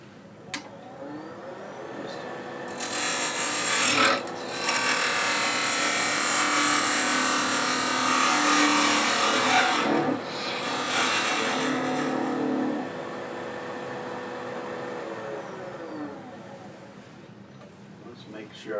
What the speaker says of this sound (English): I'm going to make sure this is faced off before we go any further